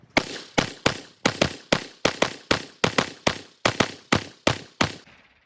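Rifle test firing Fiocchi range ammunition, about fourteen loud sharp gunshots at a steady, fairly quick pace, each with a short ringing decay, close and without talking.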